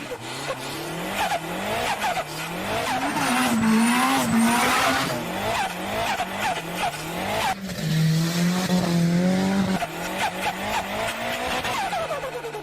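A Nissan S13 with an SR20 engine drives hard, its engine rising and falling through revs with tire squeal, loud and close throughout.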